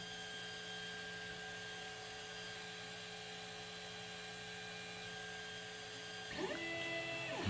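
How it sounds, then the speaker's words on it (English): A large 3D printer with a big AC heated bed runs its auto bed leveling routine, giving a quiet, steady stepper-motor whine with tonal hum, shifting pitch near the end as the axes move. "it's going through the auto bed leveling process"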